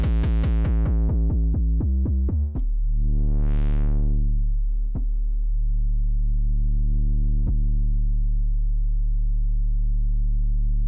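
A distorted synthesizer patch in the Unify plugin, programmed as a factory patch for a Christmas tune remix: a quick run of loud staccato notes gives way to a thick, buzzy sustained tone that swells and dips through a filter sweep, with no talking.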